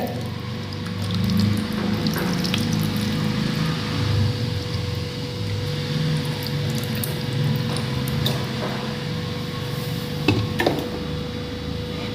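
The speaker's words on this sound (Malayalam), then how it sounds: "ഇനി അതിനകത്തേക്ക് ആവശ്യത്തിനുള്ള പുളി വെള്ളം ചേർത്ത് കൊടുക്കാം" Tamarind water being poured into a Kannur-style curry, heard as a continuous liquid pour and low burbling wash with a few drips near the end, fairly loud and close.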